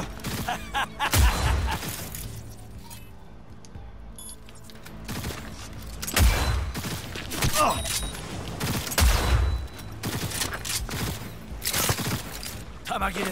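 Bursts of gunfire from the video game Cyberpunk 2077 crack out in several rapid volleys over a busy game soundscape, loud heavy thuds recurring every few seconds, with a player's voice speaking at times.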